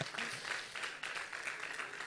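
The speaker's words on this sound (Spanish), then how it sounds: "Dale un aplauso fuerte al Señor." A church congregation applauding, a faint, steady wash of many hands clapping heard from a distance for about two seconds.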